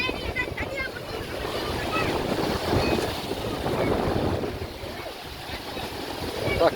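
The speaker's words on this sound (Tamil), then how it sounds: "காற்று நல்லா தள்ளுதுரா" Strong sea wind at Dhanushkodi buffets the microphone in a steady, roaring rush, with water sloshing underneath and voices talking over it.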